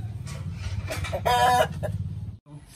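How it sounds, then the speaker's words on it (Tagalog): Backyard chickens cluck repeatedly close by, with a short louder squawk partway through over a low rumbling background. "Manok na yan mga kaagri."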